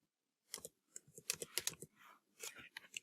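Quick, uneven bursts of keystrokes on a computer keyboard, close and fairly quiet, with short pauses between clusters of taps while entering Excel formulas.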